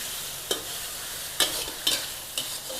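Mushroom stir-fry with a splash of dark soy sauce in a hot pan, a steady soft sizzle broken by several sharp scraping stirs of the spatula, spaced irregularly, with no voices.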